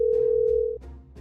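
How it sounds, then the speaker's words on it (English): A telephone receiver is picked up and a steady dial tone hums for under a second, then cuts off into faint handling clicks. "Oh, I'm picking up the phone."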